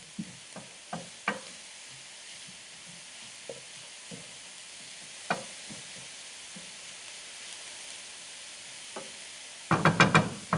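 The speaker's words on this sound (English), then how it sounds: "saute for almost like 4 to 5 minutes. Okay? And let the mushroom release the liquid. Stir it a little bit." Mushrooms sautéing in a pan give a soft, steady sizzle broken by spatula knocks and scrapes, ending in a louder clatter of stirring. Close, with no voices.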